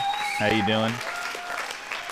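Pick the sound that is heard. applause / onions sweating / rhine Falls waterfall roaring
applause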